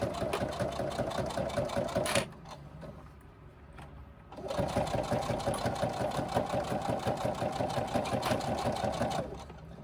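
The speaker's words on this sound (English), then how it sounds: "Swiveling it around, sewing around the curve." A sewing machine stitches around the curve of a crossbody bag in a fast, steady mechanical chatter that pauses briefly partway through while the work is swiveled, then resumes at full speed and runs on.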